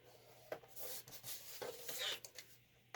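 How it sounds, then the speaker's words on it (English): A scoring tool is drawn across laminating sheets at half-inch intervals, giving quiet, short scraping strokes with a few light taps, close by and faint. "I'm going to score them every 1/2 inch."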